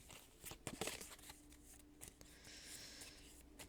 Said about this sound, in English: I shuffle these cards.